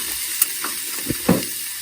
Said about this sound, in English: we're going to put our lid on it like that. And we're going to steam it.